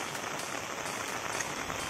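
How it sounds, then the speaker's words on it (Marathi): Rain falls on a street along the railway station road in Tiroda after two days of heavy rainfall. It makes a steady, even patter at a moderate distance with no talking. "मागच्या 2 दिवसापासून पाऊस येत आहे तिरोड्यामध्ये"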